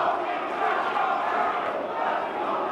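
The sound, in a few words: wrestling crowd cheering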